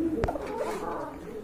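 Koka pigeons coo softly in a close, brief burst of low, rolling calls.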